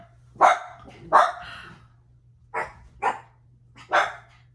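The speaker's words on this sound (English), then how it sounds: "What are you barking at?" Five sharp, loud barks from a nearby dog in uneven bursts, with short silent gaps between them and a low hum underneath.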